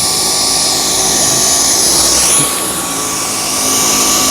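A Dyson V10 cordless vacuum cleaner works over a matted rug, a loud, steady high-pitched motor whine that holds constant with a slight shift in pitch midway, running alone without talk.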